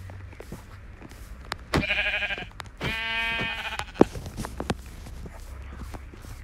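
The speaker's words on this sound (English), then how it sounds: "I'll kill that sheep today." Sheep bleats from the Minecraft video game, two clear bleats in succession over light footstep-like clicks and game noise, with no talking.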